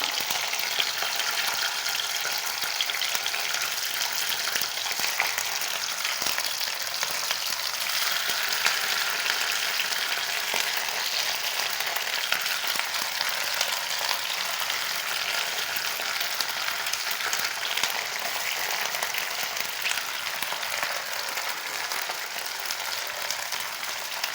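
Fish fries in hot oil at home, giving a loud, continuous hissing sizzle with dense crackling that holds steady throughout, with no talking over it.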